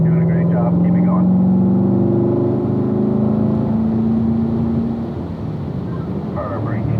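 Race car accelerating hard around a driving-school track, its engine drone rising in pitch with steady throttle, loud and close, while an instructor talks over it.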